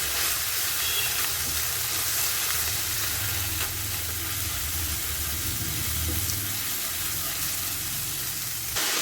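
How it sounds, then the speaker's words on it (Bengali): Nigella seeds and ginger paste sizzle loudly in hot oil for a Bengali tangra fish curry, a dense, continuous close-up hiss with faint stirring underneath and no talk. "তেল গরম হয়ে গেছে, এতে কালো জিরে ফোড়ন দিয়ে নেব। এরপর আদা বাটা, জিরের গুঁড়ো দিয়ে ভালো করে মিশিয়ে দেব।"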